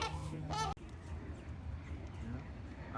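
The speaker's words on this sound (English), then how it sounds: "we got way more geese over here" A goose gives a couple of honks in a park, followed by steady outdoor background noise.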